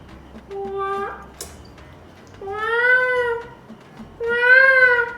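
A person imitates a peacock's call with three drawn-out, rising, wailing cries, close and loud, separated by short pauses.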